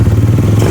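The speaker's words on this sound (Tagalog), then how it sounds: "ipapaanda rin na namin to para mapakita sa inyo na all goods na itong motor nya" A motorcycle engine, just started after CDI wiring repair, idles loud and close with a steady low chugging rhythm and light mechanical clatter, no voices.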